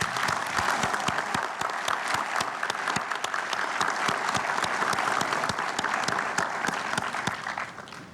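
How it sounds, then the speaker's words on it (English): A convocation audience applauds graduates at the 2022 NTU ceremony, with steady, dense clapping that stays loud and even from start to finish before easing slightly at the end. "give them a big round of applause."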